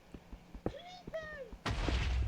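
A voice exclaims briefly, then a sudden loud blast erupts and rumbles on as a Minecraft creeper explodes in the game.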